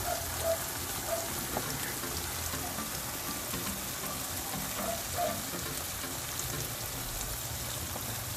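Sliced banana frying in melted butter in a pan, giving a continuous close crackling sizzle that holds steady throughout with no talking.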